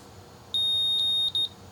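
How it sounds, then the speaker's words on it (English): An optical power meter detecting modulated light gives a loud, piercing electronic beep: one long steady tone that breaks briefly and then resumes as a short beep, with no speech. "it just gave us a little beep, beep, beep"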